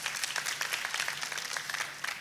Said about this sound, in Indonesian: kita kasih tepuk tangan yang paling meriah